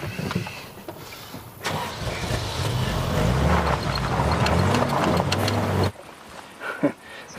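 A car driven at steady speed, its engine and road rumble filling the cabin continuously for several seconds before dropping away abruptly into quieter interior noise.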